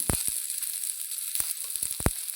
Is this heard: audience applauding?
no